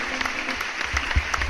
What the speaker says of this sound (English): Wow, what a great supportive crowd.